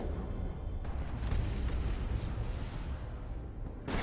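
Dense, continuous booming and rumbling battle noise from Dawn of War 2, with heavy low-end bursts running throughout the stretch, consistent with rapid autocannon fire in a large skirmish and no one talking.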